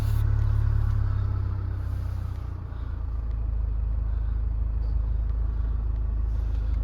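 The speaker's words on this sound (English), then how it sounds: "Just start the car." A 2.2 SD4 diesel engine in a Range Rover Evoque Dynamic Auto 4WD with 101,139 miles turns over and settles into a steady, close, low rumbling idle with a slight dip early on.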